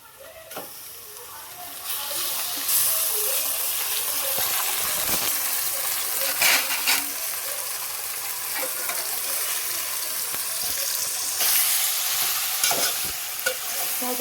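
Marinated mutton sizzles and fries in oil with browned onions while a spoon stirs and scrapes the pan, steady crackling with intermittent clinks, close and fairly quiet.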